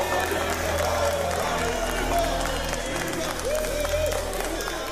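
A crowd of enthusiastic house slaves cheering and clapping at a palace theatre premiere of a national anthem, a busy mid-level wash of applause with faint tonal music running underneath.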